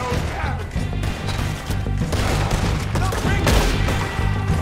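Repeated gunshots fire in Red Dead Redemption 2 gameplay, loud and dense bursts across the whole stretch, mixed with crashing impacts and game noise, with a voice speaking over parts of it.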